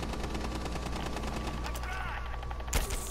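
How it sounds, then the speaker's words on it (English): Gunfire in the Rainbow Six Siege video game, a steady dense rattle of rapid shots running throughout under faint talk, with a louder burst near the end. "I'm trying to shoot at him right now. I just shot him."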